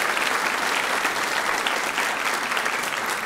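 Audience applause at a university student teacher recognition ceremony, a steady, dense clapping from a full room that holds at an even level throughout without talk.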